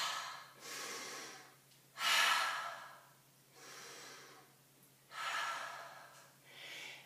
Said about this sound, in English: Nice deep breaths, let it out through the mouth.